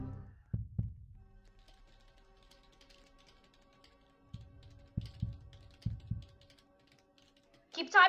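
Computer typing in the Roblox-style game Flee the Facility, rapid clicking keystroke ticks forming a steady faint patter, with louder low thumps at intervals and a bright burst near the end.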